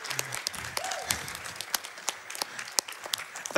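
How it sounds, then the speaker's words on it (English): Sparse applause from a small studio audience at a charity speedrun marathon, scattered individual claps popping over a quiet room, moderately close and without talk. "Give yourselves a round of applause"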